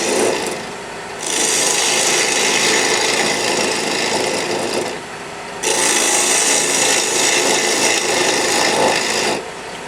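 Gouge cutting hard wood on a lathe during thread-chasing work, a loud continuous scraping rasp in two long passes with a short quieter gap between them, close and steady.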